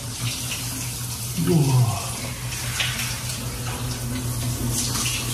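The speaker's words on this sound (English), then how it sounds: "here's a steaming hot shower" Hot shower water runs steadily with a broad hiss, loud and continuous throughout, while a man makes a brief exclamation partway through.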